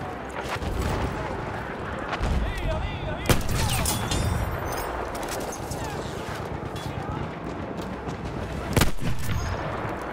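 Gunshots ring out in a Battlefield 1 match, with several sharp cracks and booms over a continuous noisy wash of battle while a voice talks underneath.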